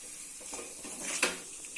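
A lentil mixture for cluster beans usili is sautéed and stirred in a pan, giving a soft, steady sizzle with scraping and a sharp clink of a spoon against metal, close and brief.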